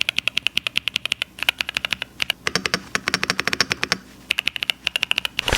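Rapid keystrokes on an Epomaker TH80 SE mechanical keyboard, a dense run of crisp, close clacks in quick irregular bursts with a couple of brief pauses, loud and clear with no talking.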